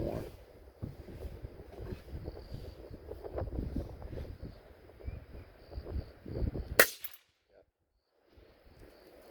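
A single sharp gunshot from a test of M2 ball clone ammunition cracks out after several seconds of gusty wind and rustling, then falls into near silence.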